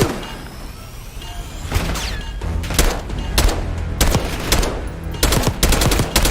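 Call of Duty Black Ops 6 firefight: sharp bursts of automatic gunfire and single shots crack in irregular clusters, fairly close and loud, over a low background rumble.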